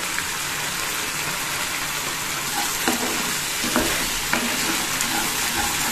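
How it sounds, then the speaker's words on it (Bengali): Vegetables, potol in a vegetarian milk-based dish, sautéing with sugar in a pan, giving a steady loud sizzle with occasional scraping stirs of a spoon through the mixture, and no voices. "চিনিটা দিয়ে ভালো মতন আবার কষাতে হবে।"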